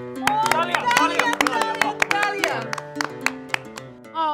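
Scattered hand claps of applause for freshly made tea among cousins at home, sharp separate slaps rising over lively talking voices and background sound, unevenly spaced and thinning out toward the end.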